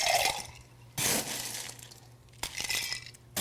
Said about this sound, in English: I'm gonna ice this.